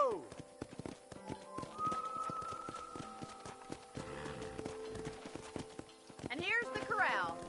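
Horse hooves clip-clop steadily at a ranch corral in the video game Red Dead Redemption, a continuous rhythmic clatter under game music and a voice, with a brief whinny-like sweep near the end.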